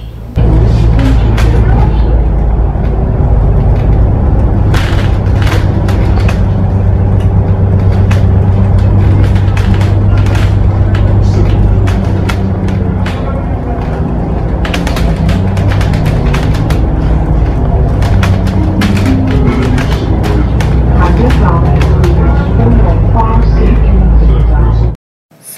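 Riding a double-decker bus in Hong Kong: a steady low engine rumble and road noise fill the cabin throughout, with voices talking over it and occasional knocks and rattles.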